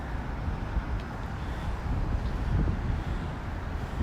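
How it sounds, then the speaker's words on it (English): Strong wind rushes over the microphone at Brooklyn Bridge Park beside the East River, a continuous low buffeting roar with gusty swells and no clear pauses. "Very windy today"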